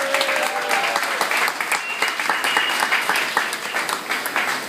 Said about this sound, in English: So let's have a round of applause for the governor.